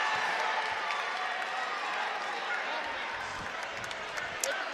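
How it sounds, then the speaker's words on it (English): A gym crowd at a Munster high school basketball game applauds a departing player, a steady wash of clapping and cheering heard at a distance, with an announcer talking over it. "Connor Manis will get a nice hand from the Munster crowd."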